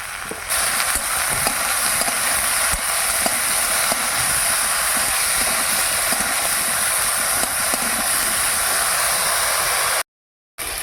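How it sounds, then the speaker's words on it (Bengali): Eggplant slices fry in hot mustard oil, giving a steady, loud, close sizzle with scattered crackles and pops that runs almost without a break before a short dropout near the end. "তেল গরম হয়ে গেল বেগুনগুলো প্রথমে ভেজে নিচ্ছি"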